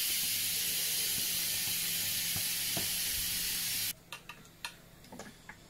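A Pressure King Pro pressure cooker vents steam in a loud, steady broadband hiss for about four seconds, then it cuts off abruptly, leaving quiet room tone with a few faint clicks and knocks.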